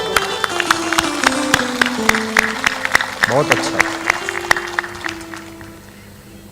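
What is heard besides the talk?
audience clapping at a religious discourse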